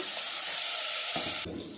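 Water is poured from a container into a pan holding ginger-garlic paste while cooking prawn biryani, a steady close splashing hiss that shifts in tone near the end and then stops.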